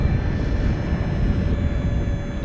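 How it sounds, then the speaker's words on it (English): A KLM Embraer 190 airliner departs Amsterdam Schiphol Airport with a heavy, steady engine roar and low rumble that holds level throughout. "It is another Embraer 190."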